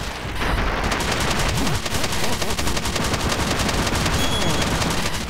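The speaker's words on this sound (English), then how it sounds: "Keep forgetting to still shoot missiles." Dense, continuous rapid-fire weapon and missile shots in the retro-style game Retro City Rampage DX+ crackle loudly and almost without pause.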